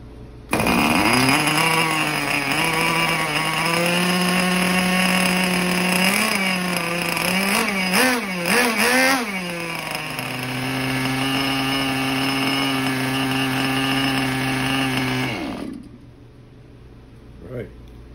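A small OS-28 glow engine for a vintage Hirobo Shuttle model helicopter runs on a test bench, a loud, piercing whine that revs up and down in bursts, settles into a steady drone, then cuts off abruptly.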